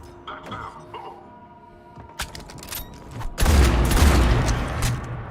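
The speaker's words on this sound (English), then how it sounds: "Good old Krogan shotgun." Heavy Krogan shotgun blasts in Mass Effect 3 combat, a loud sustained burst of booming fire after quieter gunshots and clatter, with voices faintly present beneath.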